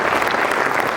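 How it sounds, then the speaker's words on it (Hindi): Dense, steady applause from a large audience at a Hindi poetry recital in Bundelkhand, close and loud throughout with no voices on top. "एक बार मुझे तालियों से आदेशित करिए"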